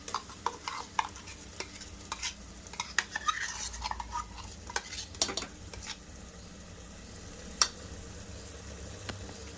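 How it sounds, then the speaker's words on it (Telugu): Tomato and ground masala stirred in a pan for tomato rice, with repeated spoon scrapes and clinks against the pan over a low sizzle, fairly quiet and close. "So that tomato and masala మొత్తం మిక్స్ అయ్యేలాగా మిక్స్ చేసేసుకోండి."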